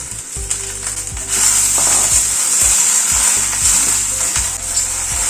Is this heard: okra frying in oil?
yes